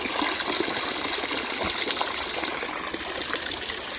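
Water pours and gushes steadily out of a fishing bag beside a flowing stream in a forest, a continuous close trickle lasting several seconds with no voices.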